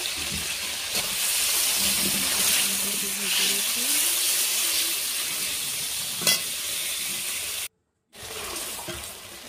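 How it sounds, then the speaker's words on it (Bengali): Spices fry with paneer for a curry, giving a loud, continuous sizzle and hiss with stirring scrapes and a brief sharp clink, then a short cutoff before the frying resumes. "পনিরের তরকারিটা পনিরে দিয়ে দিয়ে মশলা একটু ভেজে নিচ্ছি।"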